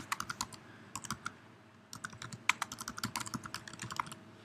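Rapid typing on a computer keyboard while entering a short menu description on a catering website, crisp close clicks in bursts with a brief pause near the two-second mark, no voices.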